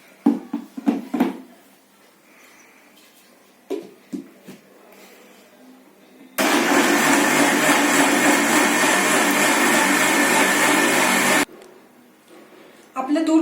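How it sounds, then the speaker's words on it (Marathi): A blender whirs loudly and steadily for about five seconds, blending a milk cold drink mixture, a sweet summer cooler, after brief clattering noises. "आता हे सगळं मिश्रण आपण छानपैकी ब्लेंड करून घेऊया."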